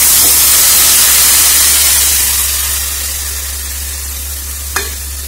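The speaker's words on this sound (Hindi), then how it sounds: "चलाना है, भून लेना है टमाटर को, ज़्यादा देर तक नहीं भूनना, कम ही भूनना है।" Chopped tomatoes with garlic-ginger paste fry and get stirred in a pan for chole, a loud, close, continuous sizzle that gradually eases, ending with a brief clink of the utensil.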